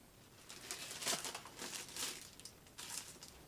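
Soft crinkling of a plastic bag, in short rustling bursts that come and go, fairly quiet and close, with no voices.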